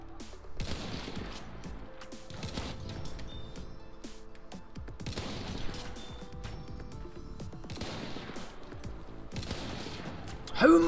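Bursts of gunfire ring out in a Battlefield 1 match on a new map, distant-sounding volleys recurring every couple of seconds over a busy battlefield background.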